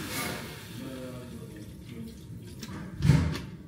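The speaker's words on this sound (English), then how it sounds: "I'm going to put in some water" Water is poured into a pot of orzo with a dissolved vegetable stock cube, making a soft, steady splashing trickle that swells briefly near the end, fairly quiet and without talk.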